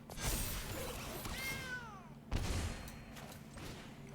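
Cat meows from the MTG Arena card game, a couple of drawn-out cartoonish cries over background game music and effects, with a sharp impact sound partway through.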